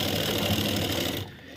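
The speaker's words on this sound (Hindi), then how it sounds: "फटाफट फटाफट सिलाई लगा जा रहा हूँ" A sewing machine stitching a shirt sleeve to the body at the armhole, a steady fast whirring run that stops abruptly near the end, close and loud with no voices.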